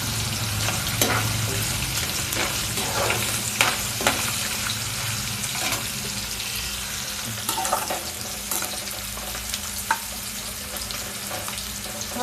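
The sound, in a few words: paneer and onion shallow frying in a pan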